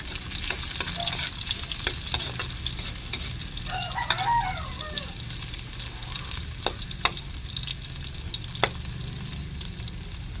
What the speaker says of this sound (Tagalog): Medyo pa pupula-pulahin lang po natin yung bawang sa luya.